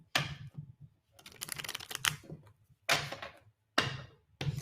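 Tarot cards riffle and slap together in several rapid bursts separated by short pauses, crisp and close with no talking.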